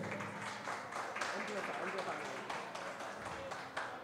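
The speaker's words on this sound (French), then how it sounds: "Je vais demander à l'assistance à applaudir très chaudement" Faint, distant-sounding applause rises from the audience at an interschool quiz semifinal, a steady wash of clapping with voices underneath.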